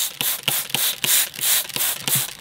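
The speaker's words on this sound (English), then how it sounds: "I'll just give that section a spray" A spray bottle fires several quick hissing sprays onto a sabre leaf ficus bonsai in a steady rhythm, each followed by the click of the trigger, close and clear.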